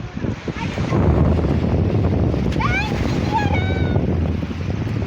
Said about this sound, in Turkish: dalgalar geldi